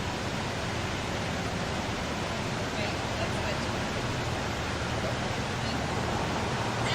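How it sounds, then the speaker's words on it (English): Lateral Falls in the Columbia River Gorge, beside the old historic Highway 30, pours in a steady broadband rush of water that holds an even, unbroken roar throughout. "You can see the falls right there."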